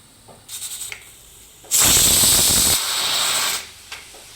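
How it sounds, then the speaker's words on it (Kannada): A pressure cooker of sambar on a low flame on a ready-made stove lets out a loud, close hiss of escaping steam lasting about two seconds, after a few brief rattles of the weight, with no talk. "ಹಂಗಾಗಿ ಕುಕ್ಕರ್ ಕೂಗ್ತಾ ಇದೆ"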